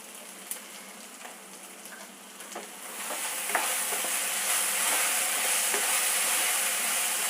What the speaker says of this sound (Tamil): அப்படியே சிம்லேயே வச்சு அப்படியே வதக்கி விட்டோம்னா வாழைக்காய் வெந்துடும்.